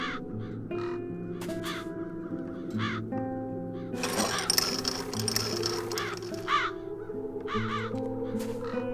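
Crows caw repeatedly in the video game The Dark Eye: Chains of Satinav, harsh calls recurring in clusters over a steady game music bed, with a louder noisy rustle midway.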